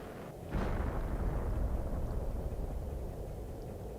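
Bombardment explosions in the survival game Planet Crafter on the moon Aqualis erupt as a sudden deep boom that swells into a sustained heavy rumble, loud and dense throughout.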